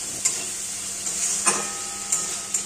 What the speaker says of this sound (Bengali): অনবরত মশলাটা খুব সুন্দরভাবে নাড়াচাড়া করে আমরা কষতে থাকব